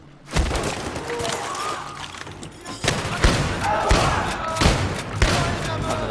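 A flashbang grenade thrown and going off in Battlefield 3: a sharp thud after a brief pause, followed by several heavy bangs, crashes and gunfire-like impacts in a busy combat scene.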